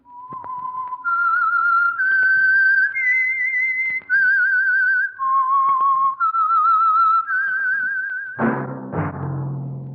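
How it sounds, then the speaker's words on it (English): Whistled theme signal for the Signal Oil radio program: a lone, clear human whistle carries a slow melody of held, wavering notes, then a loud orchestral chord takes over near the end. "That whistle is your signal for the Signal Oil Program, The Whistler."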